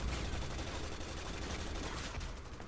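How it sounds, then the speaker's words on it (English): Rapid, continuous machine gun fire from the Resident Evil 6 video game, a dense unbroken crackle of shots at a moderate, somewhat distant level. "Machine gun."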